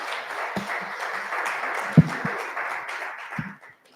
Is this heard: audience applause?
yes